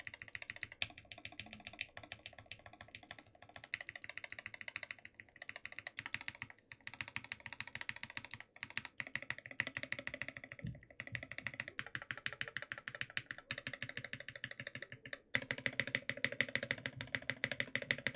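A mechanical keyboard with Gateron Ink Black V2 switches, Durock V2 stabilizers and Geek Arc keycaps being typed on: fast, continuous close-up keystroke clacks with brief pauses, fairly quiet overall.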